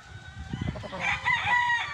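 A gamefowl rooster crows loudly nearby on a game farm, with chickens clucking just before it in a short burst.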